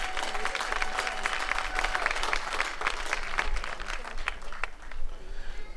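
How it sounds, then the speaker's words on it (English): At an annual community MLK celebration, the audience gives another round of applause, a sustained, fairly even clapping that carries through the hall and thins slightly near the end. "Let's just give him another round of applause."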